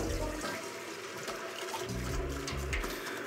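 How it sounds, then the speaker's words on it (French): Cold water rushes steadily into a beer keg during home brewing, a continuous gushing and churning flow heard close up and fairly quiet, with no talking. "Et on remplit d'eau froide encore une fois."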